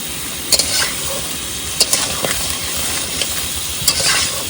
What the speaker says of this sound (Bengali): একসাথে কাঁচা কাঁকড়া অল্প গুঁড়ো মশলা দিয়ে কিন্তু কষানো কমপ্লিট